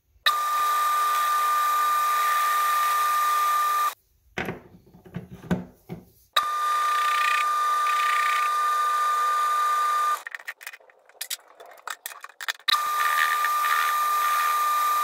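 A high-pitched drill whines steadily in three long bursts while drilling a hole in metal for a welding table, separated by quieter scraping and clattering, close by with no talking.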